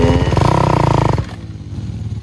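A dirt bike engine chugs loudly as a new rider stops without pulling the clutch. The rapid, close throbbing falters and stalls about halfway through, and a lower idle-like rumble is left afterward.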